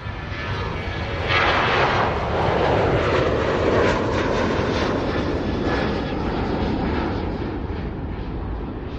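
A steady, loud roar of an airplane jet engine fills the whole clip, broadband and continuous, swelling slightly early on and holding steady.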